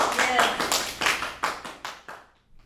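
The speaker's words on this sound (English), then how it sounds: "Each time we got a hit, we applauded to maintain high energy" A small group claps during a ghost-hunting session in a courthouse theater, a run of about seven or eight bursts of applause fading out over a couple of seconds, with voices mixed in.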